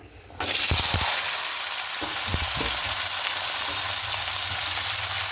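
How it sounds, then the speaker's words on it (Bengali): Cut potato pieces drop into hot oil in a wok for aloo posto with bitter greens, bursting into a loud, steady sizzle that runs on after a few clunks of the pieces landing, with no talking. "এবার কড়াইতে আগে থেকে তেল দিয়ে দিয়েছি তেলটা গরমও হয়ে এসছে এবার এখানে কেটে রাখা আলুগুলো সব দিয়ে দেবো"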